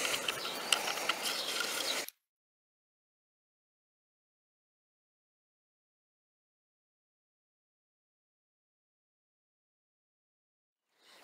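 A bicycle stem bolt being tightened with a hand tool during a fit of a lighter, thinner replacement part: about two seconds of close, steady ratcheting clicks and rubbing, then silence.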